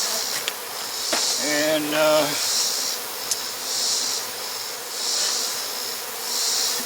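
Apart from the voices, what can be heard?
honey bees buzzing around the beehive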